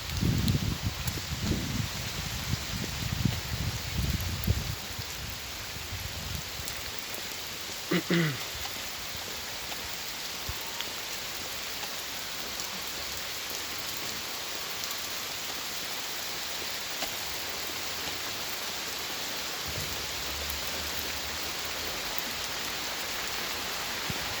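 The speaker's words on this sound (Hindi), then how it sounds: "अभी तो बहुत तेज़ बारिश शुरू हो गई।" Heavy rain pours steadily outdoors as a broad, even hiss, with louder low rumbles and some brief handling or movement noise in the first few seconds.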